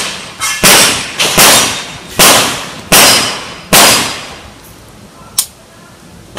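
Nine-millimetre pistol fired at an outdoor firing range: about seven loud, sharp reports in an irregular series with short echoing tails, then a softer lone crack.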